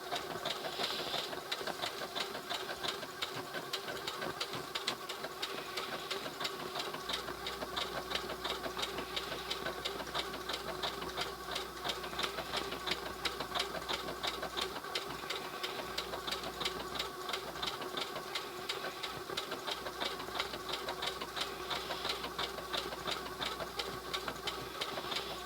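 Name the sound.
Singer 6800C sewing machine sewing decorative stitches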